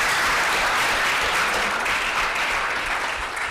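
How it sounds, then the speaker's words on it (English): Sustained, dense audience applause at a TEDx talk, loud and steady throughout with no voices over it. "I also deserve an applause for that"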